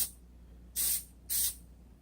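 Spray can laying a thin first coat of Plasti Dip on the front chrome of a 2017 Chevrolet Volt, two short bright hissing bursts of under a second each, close and separated by a brief pause.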